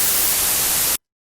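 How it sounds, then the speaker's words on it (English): Generated white noise from an audio editor: a flat, bright, hissing static at constant level that cuts off abruptly to silence just before the end. "we will have some white noise"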